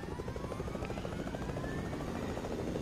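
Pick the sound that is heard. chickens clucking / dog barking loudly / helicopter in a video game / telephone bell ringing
helicopter in a video game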